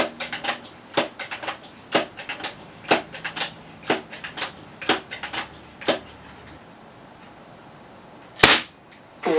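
A 1979 Crosman American Classic 1377 pneumatic pistol fires a series of sharp, snappy shots with short irregular gaps, followed by quiet and one louder crack near the end.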